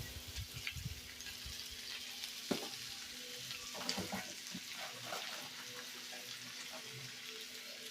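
Potatoes frying with salt and turmeric in a home kitchen pan, a quiet continuous sizzle with occasional stirring scrapes and clinks, low steady hum in the background.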